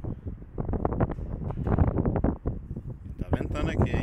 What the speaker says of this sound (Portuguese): E tá ventando aqui, hein?